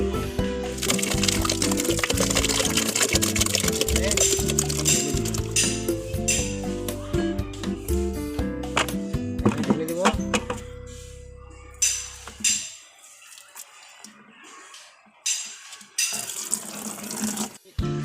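Tap water pours steadily into a container for soaking cocopeat, a loud continuous rush lasting about twelve seconds before it stops, leaving a few faint clinks and knocks.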